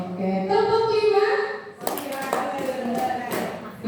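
Hands clap in a quick series of sharp beats during a classroom counting exercise, following a stretch of talking, with children's voices mixed in.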